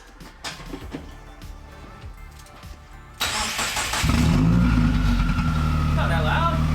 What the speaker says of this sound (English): So we're gonna start Jeff's car with just the J pipe on there, no catback or nothing